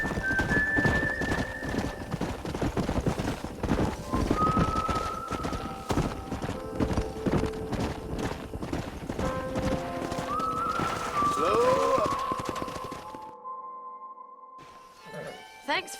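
Horses gallop with steady clip-clop hooves and occasional neighs in the Western video game Red Dead Redemption, loud and continuous under game music and brief talk, fading near the end.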